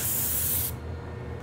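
A spray gun applying coating to a part hisses loudly and steadily up close for under a second, then cuts off abruptly, leaving quiet room tone.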